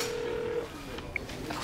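A telephone rings out unanswered in a hospital setting, a steady electronic ring tone sustained for about half a second and then falling silent, followed by brief faint beeps against a low background hum.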